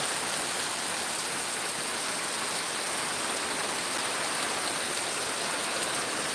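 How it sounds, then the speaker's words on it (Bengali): Heavy rain falls in a dense, unbroken roar, loud and steady throughout with no talking. "দেখো বৃষ্টি থামছে না"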